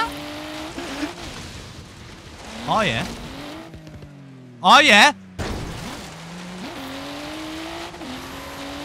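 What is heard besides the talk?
car driving in Forza Horizon 3 video game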